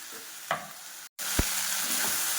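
Tomatoes and onions cooking in a pan with salt, a continuous loud sizzle broken by a brief silence and a couple of spoon knocks against the pan.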